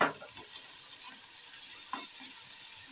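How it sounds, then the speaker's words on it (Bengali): Ghetkol frying in a pan with salt and turmeric, a steady close hiss of sizzling oil broken by a couple of soft stirring scrapes, with no voices. "ভালো করে ভেজে নেব"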